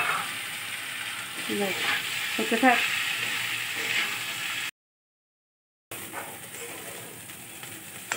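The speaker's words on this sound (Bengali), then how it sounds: "চালের সাথে সাথে এটা ভাজা হয়ে যাবে।" Rice for veg pulao fries in a pan with ginger paste, giving a close, steady sizzle with stirring scrapes, a brief silent break midway, and a voice speaking briefly.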